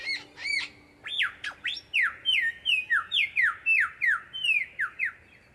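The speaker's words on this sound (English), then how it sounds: "It gets noisy in the bush when the lyrebird does his spring mating dance." A lyrebird during its spring mating display in the bush calls again and again, loud and close, with ringing whistled notes and sweeping squawks in a fast, steady series and no other sound.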